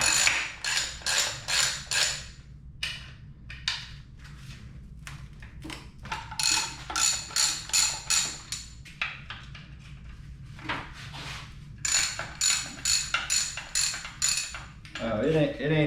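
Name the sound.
wrench ratcheting torque converter bolts on VW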